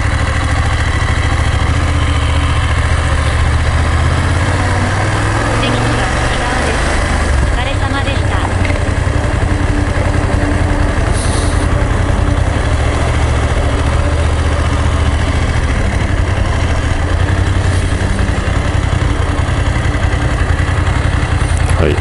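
A BMW F850GS motorcycle engine idles steadily and close by, a continuous low rumble with vibration, while someone talks over it.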